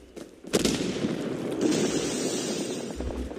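Sustained automatic gunfire spray in the Call of Duty Mobile multiplayer video game, a dense continuous burst beginning abruptly and running loud and steady to the end with no talk.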